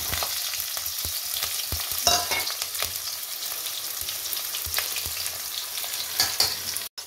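Green chilies, mustard seeds and onion fry in hot oil for suji upma: a constant close sizzle with scattered sharp pops and crackles, the occasional utensil scrape, and no voices.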